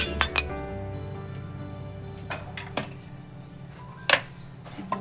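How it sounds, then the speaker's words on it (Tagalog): Tomatoes dropped into a cooking pot for Ilocano pakbet, with a few sharp clinks of utensils against the pot and softer knocks in between, close and alone over a faint kitchen hum. "Ilagay po natin yung kamatis."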